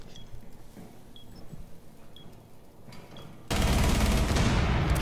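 Video game gunfire shooting through a wall, with scattered distant shots and faint pings, then a sudden loud, sustained burst of rapid firing near the end.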